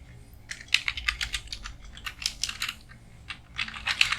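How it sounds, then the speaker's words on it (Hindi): Typing on a computer keyboard while entering barcode numbers in Excel: close, crisp key clicks arrive in quick irregular bursts with brief pauses, and no one speaks. "अब मैं सेकंड बारकोड टाइप कर रहा हूँ नंबर, थर्ड टाइप कर दिया"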